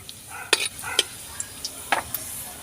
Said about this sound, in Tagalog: i-brown yung ginger